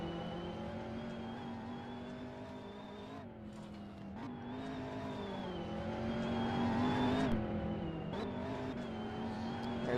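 A race car's engine in a sim racing video game at the Turkish Grand Prix, the car sliding loosely around the track; a continuous loud, high-pitched engine drone with revs rising and dipping, steady throughout with no voices.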